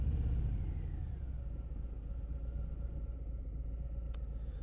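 A 2024 Harley-Davidson Fat Boy motorcycle rumbles steadily while making a turn, a deep continuous engine drone heard close and fairly loud with no speech over it.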